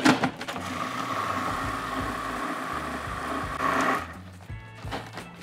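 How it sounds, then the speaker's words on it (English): Peanuts grinding in a food processor for homemade Butterfingers, a steady loud motor whir with rattling texture that eases briefly near the end. "so as you grind this, what's gonna happen is as the peanuts break down, they're gonna release some of their oil"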